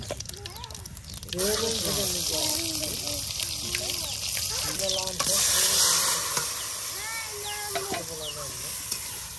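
Cumin and garlic added together to hot oil for a village-style country chicken and eggplant curry, giving a loud, continuous sizzle and hiss while a person talks over it.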